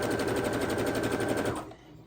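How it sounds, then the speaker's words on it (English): A sewing machine runs fast and steady, stitching around the corners of a quilt block made from 4 1/2 inch scrap strips, its rapid mechanical chatter loud and close before stopping abruptly near the end. "We're stitching around all 4 corners."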